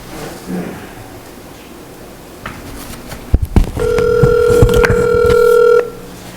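A mobile phone is dialed to place a call during a town board meeting: brief keypad tones, then a loud, steady ringing tone that fills the last few seconds.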